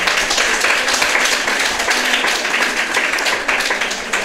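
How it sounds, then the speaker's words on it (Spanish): Sustained applause from a crowd at a Valencian Fallas event, steady and dense clapping that fills the whole moment without pause. "Fuerte aplauso para ella."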